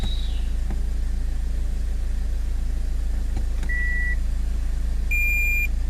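A Toyota Corolla with a faulty robotized clutch gearbox idles with a constant low rumble while electronic dashboard beeps and chimes sound as reverse engages, and a few faint clicks come from the shifter.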